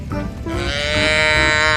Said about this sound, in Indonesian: wow, ada sapi lucu